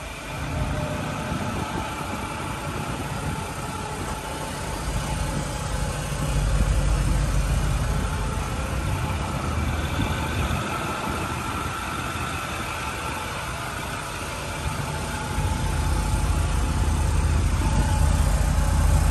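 A 2008 Ford F-250 pickup sits idling, its engine a steady low rumble close by that holds evenly for the whole stretch, with faint background noise and no speech.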